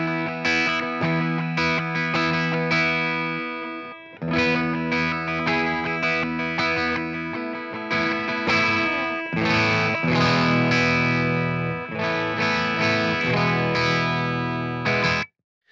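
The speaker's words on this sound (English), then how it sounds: "The other thing that I'm hearing on that bridge pickup is a really great upper mid-range kind of chimey thing going on." Reverend Charger RA electric guitar with Railhammer pickups, played on the bridge pickup through an overdriven tube amp: loud distorted chords and ringing riffs in bursts with short pauses, bright and chimey in the upper mids, no talking.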